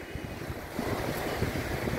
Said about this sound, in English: But I just want to show you these waves,